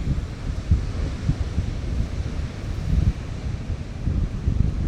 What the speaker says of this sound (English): the sea you can hear sounds like a waterfall